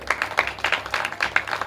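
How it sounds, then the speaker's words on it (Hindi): A crowd at a devotional story recital about Prahlad claps in a brief burst, several quick uneven hand claps close by, with no talking over them. "एक बार ताली बजा दो।"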